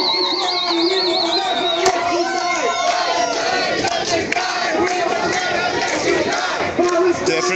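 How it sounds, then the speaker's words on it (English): A protest crowd roars and cheers at a Palestinian flag waved from an apartment, a loud sustained mass of voices and shouts close by. "getting quite the response from the crowd."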